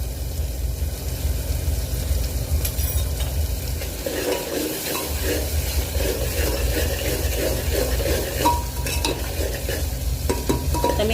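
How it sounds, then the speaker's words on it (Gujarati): Peas and potatoes sauté in a pan, a loud continuous sizzle with stirring scrapes and occasional utensil clicks throughout, close and steady. "આને પણ આપણે એકથી બે મિનિટ સુધી સરસ શેકાવા દઈશું"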